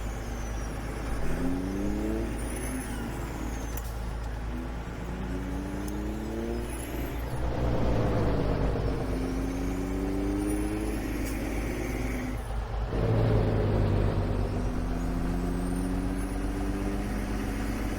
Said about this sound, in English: I still don't know if I like the sound that I put on this truck.